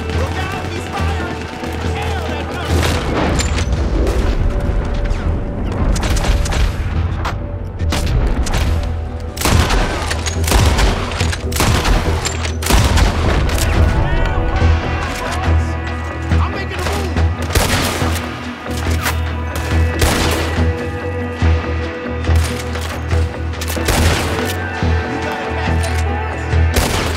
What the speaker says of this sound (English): McGrath, he's going for the gatling. Look out, he's firing.